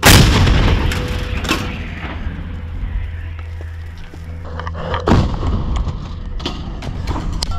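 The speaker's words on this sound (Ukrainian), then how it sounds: "Постріл!" An MT-12 anti-tank gun fires near Bakhmut, heavy shots booming out nearby, one at the start and another around five seconds in, with low rumbling echoes and machinery hum between them.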